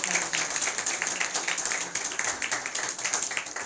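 An audience at a Brahma Kumaris Christmas program in Paschim Vihar claps for a young child's performance, a continuous patter of many hands at moderate loudness throughout.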